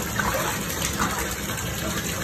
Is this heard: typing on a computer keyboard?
no